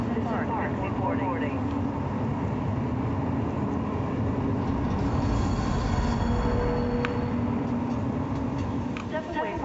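A train rumbles steadily into a platform with wheel squeal and rail clatter, loud and continuous throughout, while a voice speaks over it.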